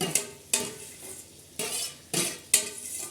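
Baingan bharta being stirred in a pan over a desi clay stove, with five distinct scraping strokes of a utensil against metal, each over a faint sizzle, close and fairly loud, with no voices.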